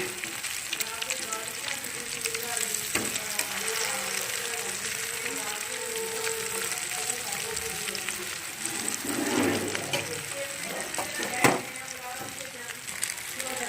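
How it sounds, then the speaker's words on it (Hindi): Chicken and lentil shami kabab patties fry in a pan with a steady, close sizzle and crackle that runs throughout, broken by a few sharper pops. "बस अब टिक्कियाँ फ्राई करनी है"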